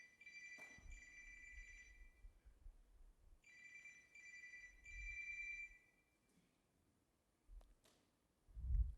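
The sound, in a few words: telephone ringing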